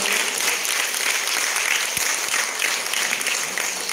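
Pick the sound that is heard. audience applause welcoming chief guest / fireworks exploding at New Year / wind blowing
audience applause welcoming chief guest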